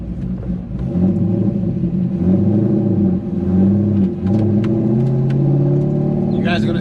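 A cammed C5 Corvette Z06 with a manual gearbox rumbles and revs while driving, its lumpy engine note rising and falling through shifts, with a person talking over it.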